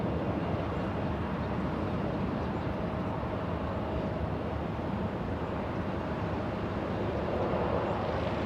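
Steady, broadband roar of a Boeing 737 airliner at LAX airport bound for Minneapolis, a constant jet rumble heard from a distance, with some wind noise and no talk.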